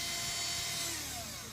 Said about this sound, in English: you can see that that just powers the drill directly